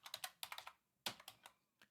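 Quick bursts of keystrokes on a computer keyboard, close and crisp, arriving in two short runs of rapid clicks separated by a brief pause, ending with a single soft tap.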